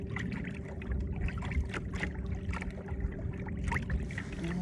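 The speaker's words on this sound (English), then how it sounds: "I've got the electric trolling motor out" An electric trolling motor runs on a fishing boat on a lake, a steady low hum and churn blended with water lapping against the hull, constant and fairly close, with no talk.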